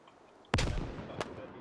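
Frag grenade detonating in the video game Squad: a single loud, sharp blast followed by a rumbling decay, with a second softer crack shortly after, in a tense combat setting.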